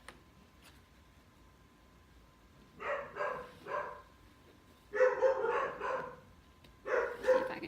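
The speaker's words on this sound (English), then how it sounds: "A little distraction from the dogs." Several household dogs bark indoors in three clusters of rapid, fairly loud barks with short quiet gaps between them, no talking.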